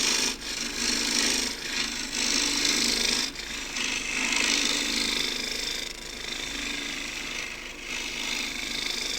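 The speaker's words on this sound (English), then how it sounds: "get at it with the 1/2 inch 3/8 spindle gouge" Green elm is cut with a 3/8 spindle gouge on a wood lathe while shaping a small rounded pot, producing continuous loud scraping and rasping with brief dips as the tool lifts and re-engages.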